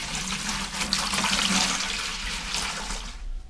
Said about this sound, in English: Put some cold water in first.